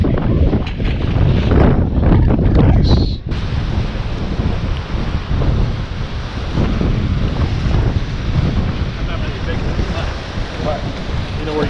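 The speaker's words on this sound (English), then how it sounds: "Get the waves in the background here." Ocean waves breaking on the shore beside a fishing pier on Anna Maria Island, a continuous loud wash of surf heavily buffeted by wind noise on the microphone.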